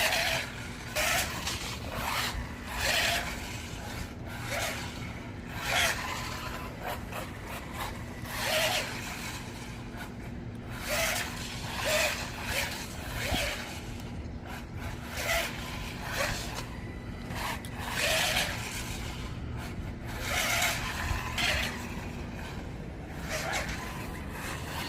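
Arrma Mojave Grom RC car running in four-wheel drive, carving lines on loose ground: a steady whine with repeated scraping, gritty bursts as the tires dig and slide, sustained close-up with no talk.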